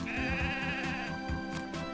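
A sheep in Mother 3 bleats in a long wavering cry over a steady low background hum, with a shorter bleat following near the end.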